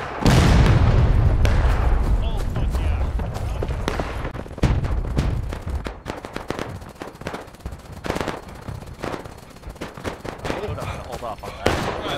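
Massed musket volleys and booming cannon fire in a Civil War line-battle video game, a heavy roar at first, then dense crackling shots and scattered sharp reports continuing loudly, with voices shouting over the din.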